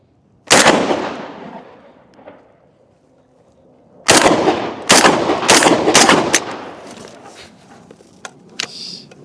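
AUG rifle fire in a video game: a single loud shot, then a rapid string of sharp cracks in quick bursts, followed by a few more scattered shots that trail off.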